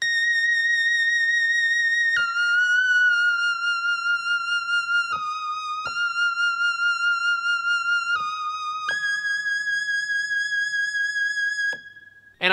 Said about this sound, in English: It's called Dyna Lead, and it sounds like this.